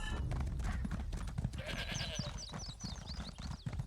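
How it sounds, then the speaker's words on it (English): Goat bleating in the Elder Scrolls Online video game, several short wavering high bleats in a quick series over a continuous low game background rumble with scattered thumps. "That would be a goat."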